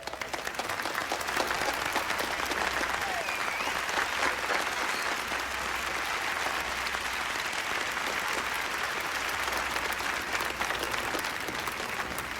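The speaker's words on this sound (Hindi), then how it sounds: "जोरदार तालियों से स्वागत कीजिए मिस्टर फ्रैंक पर्ड्यू का" Sustained applause from a debate audience welcoming a special guest, dense steady clapping filling the whole stretch at an even level with no voices over it.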